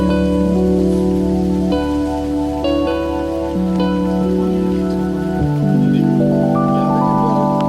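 Heavy rain during flooding in Ludhiana, Punjab, drums steadily on a camping car, a dense close patter beneath loud sustained musical tones that change pitch several times.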